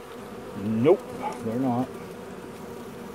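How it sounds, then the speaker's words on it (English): Honey bees hum at a hive's inner cover carrying burr comb, a steady low drone close by, while someone speaks briefly over it. "let's see if the bees are off this one inner cover with the fur comb on it."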